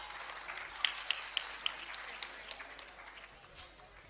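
Scattered clapping from the audience at a talent hunt quiz program at the Arts Council in Karachi, fairly faint, with a few sharper individual claps standing out before it thins away.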